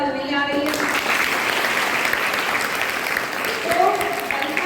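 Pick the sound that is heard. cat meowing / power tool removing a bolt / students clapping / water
students clapping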